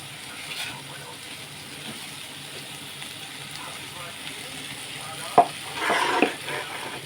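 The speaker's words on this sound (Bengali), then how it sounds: "আমি মাছ ভাজা আর আলু ভাজা একই সাথে রাখিছিলাম তাই আমি একটু মাছগুলো রেখে দিছি আলুগুলো দিয়ে দিছি" Potatoes frying in a pan of oil give a soft, steady crackle at low volume, with a sharp clack near the end and a brief louder burst of sizzle just after.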